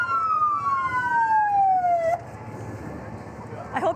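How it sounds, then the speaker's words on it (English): A wailing fire department emergency siren sweeps steadily downward in pitch at a St. Patrick's Day parade, then cuts off abruptly, leaving low traffic rumble before a brief burst of noise at the end. "I hope you can hear the sirens at home."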